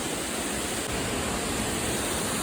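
Mapalana waterfall in Ratnapura, Sri Lanka, gives a continuous hissing rush of falling water, steady and moderately loud throughout, with no speech.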